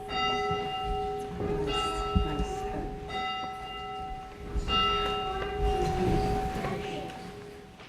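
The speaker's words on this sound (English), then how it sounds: "And with the tolling of the bell in Quincy's first church" A church bell tolls repeatedly at Quincy's first church during a historical society's annual celebration, its ringing tone sustained and fairly loud over light background murmur.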